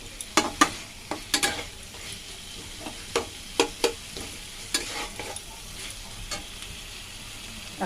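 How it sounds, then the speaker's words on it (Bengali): Spice paste for a vegetarian potato paneer curry sizzling in oil, with a steady soft crackle and a dozen or so sharp scraping, clinking strokes of a spoon against the pan at an uneven rhythm. "এই আমার দেখো মশলাটা কষানো হয়েছে"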